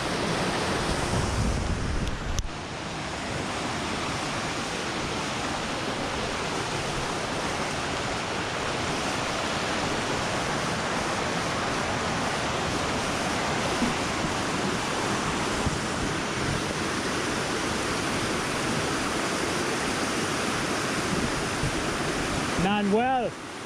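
Rushing river water near a waterfall at Cueva de los Guácharos in Jardín, Colombia, a steady loud broadband roar filling the whole stretch, with a brief knock near the start.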